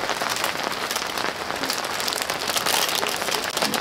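Sudden rain shower drumming steadily on a camping tent, a dense, close patter of drops that stays loud and continuous throughout with no voices.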